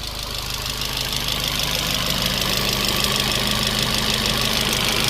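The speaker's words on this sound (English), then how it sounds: "The compressor kicked on and the fan came on." A 2012 Fiat 500 idles with its AC compressor and cabin fan running, giving a steady, close mechanical hum and airy blower hiss with a faint knocking texture throughout, no voices.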